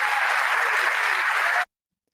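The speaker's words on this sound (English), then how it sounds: "Let's give them a warm round of applause." Wedding guests applaud the bride and groom, a dense steady clapping that holds at even loudness for about a second and a half and then stops abruptly into silence.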